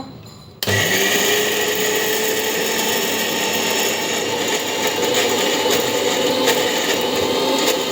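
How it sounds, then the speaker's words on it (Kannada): A mixer grinder whirs loudly and steadily as it grinds fenugreek into a paste. It starts abruptly after a brief quieter moment and keeps a constant motor roar with no talk. "ಸೊ ಇವಾಗ ಅದು ಮಿಕ್ಸಿ ಮಾಡತ್ತಾಳ ನಮ್ಮ ತಂಗಿ ಮೆಂತ್ಯ"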